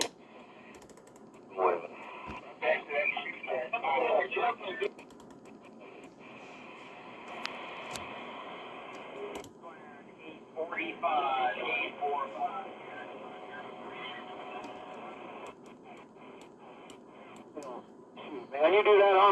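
AM band reception on a K-Po DX 5000+ radio: a hissy, band-limited signal with muffled voices drifting in and out through static, fluctuating in strength throughout.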